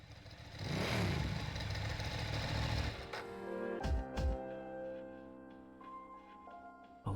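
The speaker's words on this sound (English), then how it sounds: "A large motorcycle is parked in front of you." A large motorcycle idling in Persona 3 Portable, with a steady mid-pitched engine rumble that fills the first three seconds, then brief clattering bursts before it settles under a sustained musical tone.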